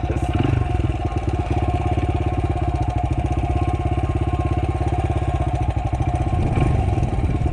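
A Honda motorcycle engine idles close and loud in a steady, even putter for several seconds while gears are shifted, with no talking over it.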